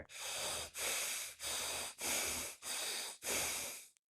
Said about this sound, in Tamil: கை இந்த மாதிரி வச்சு நல்லா 3 முறை மூச்சை உள்ளெழுத்து வெளியிடுங்க